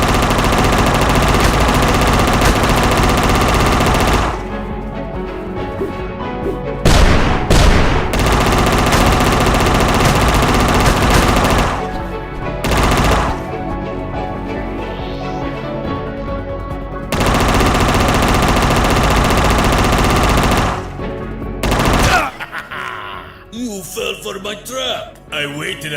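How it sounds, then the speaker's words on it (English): Machine gun fire in the video game UnMetal: loud sustained bursts of rapid automatic shots, broken by short pauses and separate volleys, with a voice speaking between bursts. "You destroyed my machine gun!"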